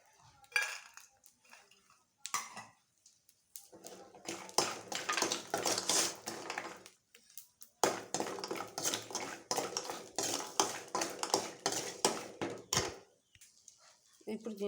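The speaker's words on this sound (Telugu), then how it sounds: "ప్యాన్లో నెయ్యి వేసుకొని ఇప్పుడు డ్రై ఫ్రూట్స్ వేసుకుందాం." Almonds, cashews and dry coconut frying in ghee in a pan, with bursts of scraping and clinking from a spatula stirring against the metal in repeated rhythmic stretches, fairly close, with short pauses between.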